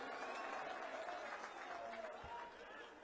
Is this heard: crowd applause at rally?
yes